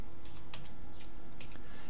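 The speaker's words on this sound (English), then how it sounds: "you'll notice that I'm able to stay on the keyboard instead of using the mouse, which makes data entry much quicker" Fingers tap a computer keyboard in quick, scattered keystrokes during payroll data entry, faint under a constant hiss of background noise.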